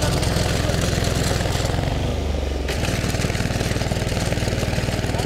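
An Apollo four-wheel power tractor engine works a farm field with a loud, close, rapid chugging that holds steady throughout, broken briefly by a shift in tone partway through.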